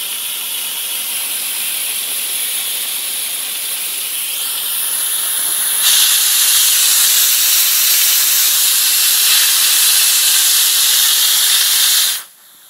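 Steam hisses loudly and steadily from the partly open valve of a rocket stove boiler at just over 20 psi. The hiss grows stronger midway, then cuts off abruptly near the end.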